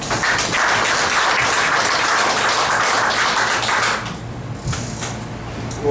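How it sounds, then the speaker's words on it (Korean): A roomful of attendees at an annual general meeting of a district auto repair business association claps steadily for about four seconds, then the applause thins and fades to a few scattered claps. "2012년도에 그 금정구지회를 이끌어주셨던 의원님들한테 박수 한 번만 부탁드리겠습니다."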